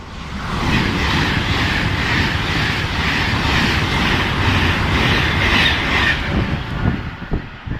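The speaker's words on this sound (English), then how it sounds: "the West Coast Tiger giving it the beans through here" A fast passenger train roars steadily through a station close by, a loud rushing rumble of wheels and wind that holds for several seconds before starting to fade.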